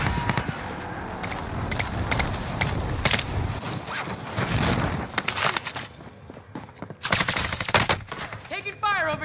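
Bursts of automatic and single-shot gunfire from the Call of Duty: Warzone video game, fast staccato cracks in dense clusters throughout, loud and close with sharp peaks near the end.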